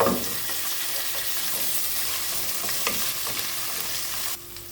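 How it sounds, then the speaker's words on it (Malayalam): Small onions sizzle and fry steadily in hot oil in a pan while being stirred for a Kerala-style kadala curry, a continuous close crackle that stays even for several seconds and then drops off abruptly near the end. "നമ്മളിനി അടുത്ത് ചെറിയ ഉള്ളി നമ്മൾ ഇട്ട് അതോടെ ഇതിനോടൊന്ന് വഴറ്റിയെടുക്കണം."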